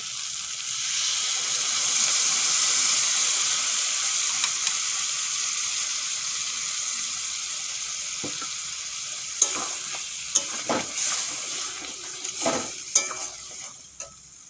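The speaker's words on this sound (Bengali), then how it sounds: "সয়াবিন আলু মশলার সঙ্গে একটুক্ষণ ভেজে নিয়েছি" Soya chunks with potato and spices sizzle in a pan while a spoon stirs, a close steady frying hiss joined later by scraping stirs and sharp knocks against the pan.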